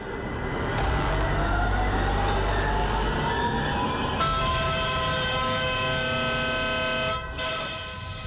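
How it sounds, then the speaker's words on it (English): Horn of an oncoming train at a station in Turkey, a loud sustained blare that holds steady, shifts pitch partway through, and continues over rumbling rail noise. "She did not see the train or hear the whistle blow"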